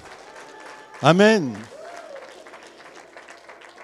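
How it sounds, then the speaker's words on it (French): A church congregation claps in steady, moderate applause in the background while a loud voice calls out over it. "Est-ce qu'on peut applaudir le Seigneur?"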